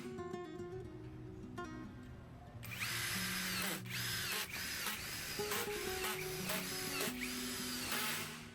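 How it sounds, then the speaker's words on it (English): A power drill drives countersunk hex wood screws up through the underside of a laboratory table's wood panel, a steady close motor whine that rises sharply partway through and holds with brief pulsing dips, no talking. "use these countersunk hex wood screws to secure the wood from the underside of the table"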